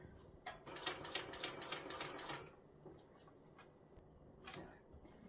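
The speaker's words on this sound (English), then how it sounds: "I'm going to stitch right up to my seam allowance" A sewing machine stitches fabric up to the seam allowance of a tote bag, a loud dense run of rapid mechanical stitching for about two seconds, then quieter intermittent clicks and short bursts as the work pauses.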